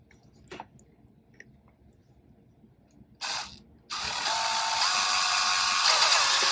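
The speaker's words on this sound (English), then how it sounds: "I'm going to start with a small hole first. This is a 1/8 inch bit." A 1/8 inch bit drills a small hole during a RAV4 switch installation: a brief click and a short trigger burst, then a steady, loud, close drill whine that keeps running.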